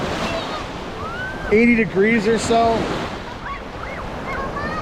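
Ocean surf washes steadily onto the beach at Treasure Island, Tampa, with wind rumbling across the microphone while someone talks over it in a few brief bursts.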